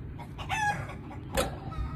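A chicken clucks and a rooster crows twice in short, close bursts, with quieter farmyard noise in between.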